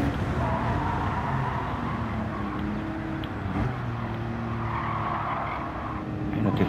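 Racing engine of a car in Gran Turismo on PS5, a steady droning motor tone with shifting pitch and some tyre noise, continuous and fairly loud throughout.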